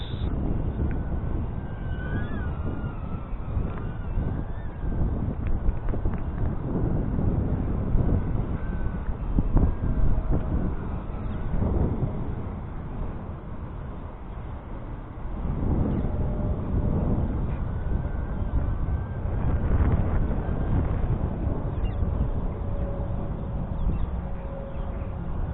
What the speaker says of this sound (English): the wind's quite strong